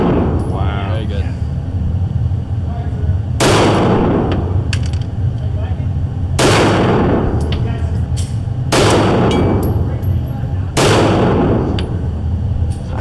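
Firearms including an AK fire at an indoor range in Las Vegas, with four heavy, booming shots spaced a few seconds apart, loud and close, above a constant roar of range noise and other fainter reports.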